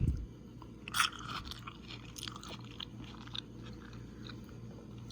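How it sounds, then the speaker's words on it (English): Thick-cut, crunchy carrot slices being bitten and chewed close up, giving a few crisp crunches, the sharpest around the one-second mark, followed by quieter chewing and scraping with no talking. "listen to this crunch"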